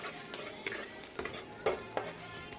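Onion and tomato sauté in a pan for an onion chutney, a low, faint sizzle with a few soft scraping stirs of a spatula, brief and close, without speech.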